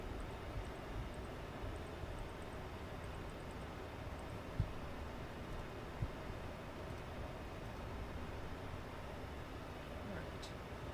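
Steady broadband roar of a Boeing 737 MAX 8's engines in Microsoft Flight Simulator 2020 during descent, a constant loud rumble with a faint high whine throughout and a couple of brief small clicks.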